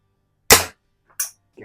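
A Daisy 499B BB gun fires at a green paintball target: one sharp, close crack, then a quieter snap and a faint third tick.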